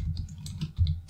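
Fast, uneven typing on a computer keyboard while coding a GatsbyJS blog, a close run of light key clicks with a few louder taps near the end.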